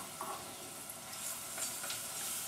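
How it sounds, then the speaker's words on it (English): Vegetables sauté over medium heat in a pan, giving a soft, steady sizzle with faint stirring scrapes. "Saute over medium heat until they soften."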